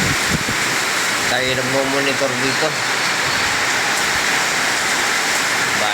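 Steady broadband hiss of heavy rain pouring down throughout, with someone speaking briefly over it near the start.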